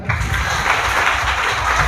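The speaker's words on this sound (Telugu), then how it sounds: "ఒకసారి మీ అందరు ఇప్పుడు గట్టిగా చప్పట్లు కొట్టాలరా." A group of schoolchildren clap loudly together, a dense, continuous patter of hands that holds steady for the whole stretch with no pauses.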